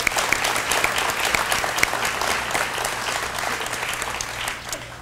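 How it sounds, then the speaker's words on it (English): Theater audience at an educators' award ceremony applauding the building staff: loud, full clapping from a large crowd, steady for several seconds before thinning slightly at the close. "So a round of applause for all of them."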